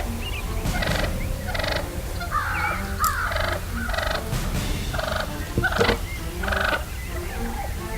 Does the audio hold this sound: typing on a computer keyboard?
no